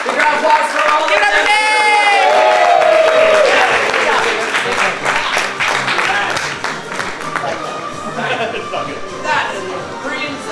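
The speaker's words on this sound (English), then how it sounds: "Big round of applause for all of them." Audience at an improv comedy show breaks into applause and cheering, loud dense clapping with whoops and raised voices mixed in, swelling early and then tapering somewhat while people call out over it.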